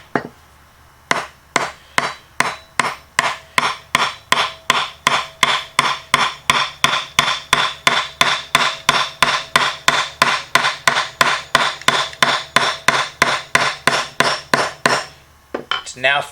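Steady, evenly spaced wooden knocks as a tool handle is whacked down onto a tang to seat it against a brass ferrule, about forty sharp close strikes in a row with a brief pause near the start and end.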